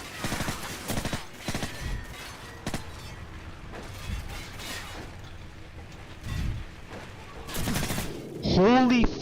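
Rapid video game gunfire during a gunfight, with repeated bursts of shots and loud impacts in close succession, while excited voices shout over the action.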